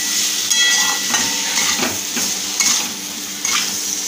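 Potatoes sautéed in masala for a potato curry sizzle loudly and steadily in a hot pan, with a spoon scraping and clinking against the metal every so often and no talking.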